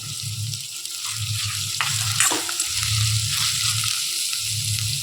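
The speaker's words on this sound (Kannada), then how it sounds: "ಚೆನ್ನಾಗಿ ಫ್ರೈ ಮಾಡ್ಕೊಳ್ಳೋಣ" Sliced onions and curry leaves fry in hot oil for chicken fry, giving a close, continuous sizzle with stirring scrapes and a low rhythmic rumble from the pan, no talking.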